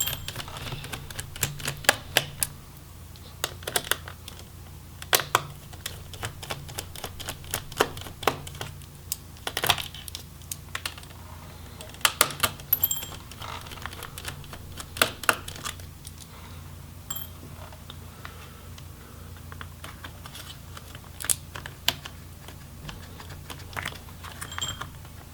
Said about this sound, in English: so we'll go ahead and remove those screws.